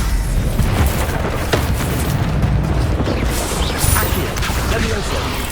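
Incendio fire spell in the video game Hogwarts Legacy, heard as a loud, dense roar of booming fiery bursts and crashes that sustains throughout with voices underneath.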